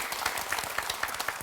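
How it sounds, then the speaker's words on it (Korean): Audience clapping at a Korean panel talk, brief and fairly steady with individual claps distinct in a regular rhythm, moderately close. "이런 대목에서는 좀 박수를."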